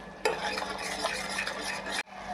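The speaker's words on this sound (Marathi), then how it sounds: "कांदा आणि छान परतून घेते कांदा आणि टमाटर" Chopped onion and tomato are sautéed in a pan, a continuous close scraping stir with gentle sizzling that starts suddenly and stops after about two seconds.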